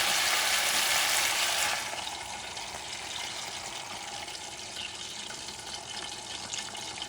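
Broth or water is poured into a pan of fish stewing in tomato sauce, a bright rushing splash for under two seconds, then a softer steady simmering hiss.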